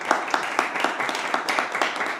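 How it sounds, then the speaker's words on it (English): An audience at a talk on halacha and mental health applauds in a steady patter of many hands clapping, with close, regular claps standing out above the crowd. "Give him a big round of applause"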